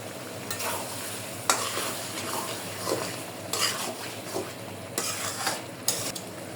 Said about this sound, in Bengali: আমার মজকটা কষানো হয়ে গেছে